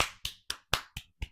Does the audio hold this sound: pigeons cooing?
no